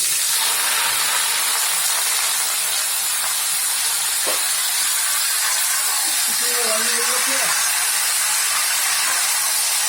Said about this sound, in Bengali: অল্প একটু দু চারটে মেথি দিয়েছি আর দেখুন তেল হয়ে গিয়েছে এবারে লাউটা দিয়ে দিচ্ছি